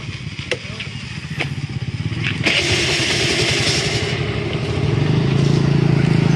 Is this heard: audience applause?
no